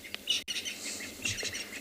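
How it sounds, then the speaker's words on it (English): Several wild birds chirp and tweet at sunrise on an African safari in the Kalahari at Tswalu, with short bright calls scattered through a quiet outdoor background, fairly faint and without talk. "I think if we actually sit around here, we might see a lot of different birds come out. I can hear a lot of them."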